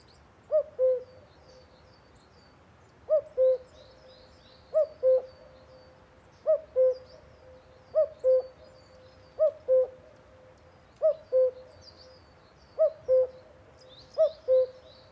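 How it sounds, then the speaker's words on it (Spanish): Hoopoe calls come in a regular series of short groups of two to three soft, hollow notes, evenly spaced and fairly close in a quiet setting. "O la triple nota o cuádruple de la bubilla."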